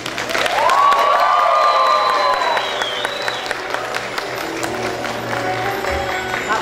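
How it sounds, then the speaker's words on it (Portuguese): An audience at a university literature graduation ceremony applauds a professor with steady, sustained clapping and some cheering, while a high whistle or shrill voice rises over it early on and a voice speaks faintly over the clapping. "Aplausos ao professor."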